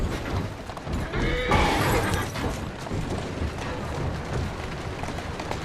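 A horse in Assassin's Creed Syndicate gives a short whinny around the middle of the stretch, set against steady game ambience with hoof and street noise running throughout.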